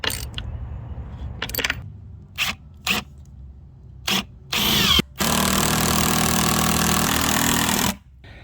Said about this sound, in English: I'm going to drill this through here into the 4x4 post